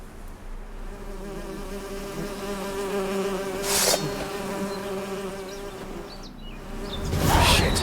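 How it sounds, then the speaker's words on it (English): Bees buzz in The Witcher 3: Wild Hunt – Hearts of Stone, a steady droning hum with a few swells as insects pass close by, sustained throughout with no talking. "Bees."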